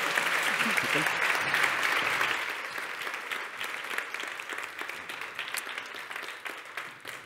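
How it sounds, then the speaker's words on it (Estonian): A conference audience applauds a panel on green skills: loud, sustained clapping from a sizeable crowd that eases slightly in volume but keeps going throughout. "Aplaus enne suurepärasele paneelile."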